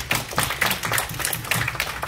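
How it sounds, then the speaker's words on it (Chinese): An audience at a club meeting and installation ceremony claps steadily, with dense, continuous hand claps from a modest crowd and no voices over them. "我们再次为以掌声来谢谢我们的这个现任会长杨新立姐"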